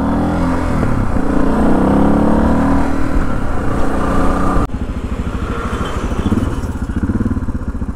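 Suzuki V-Strom motorcycle riding along a road, a loud steady engine drone mixed with wind rush, shifting at one point to a lower, pulsing rumble that continues to the end.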